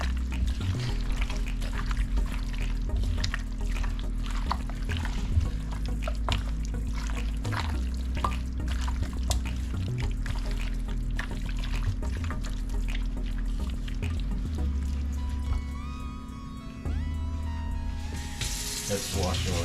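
Kitchen tap water runs steadily into a sink for hand washing, a continuous close splashing rush lasting throughout, with a low steady hum underneath and brief faint clatter near the end.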